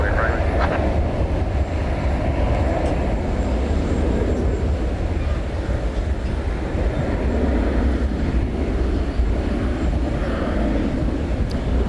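Airbus A320 airliner departing Dallas Fort Worth airport at night, a broad steady engine roar heard from a distance that stays even across the span, with a voice speaking over it at times.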